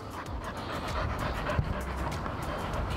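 A dog pants rapidly and steadily nearby at Matlock Bath, the quick breaths running continuously over outdoor background noise, with no talking.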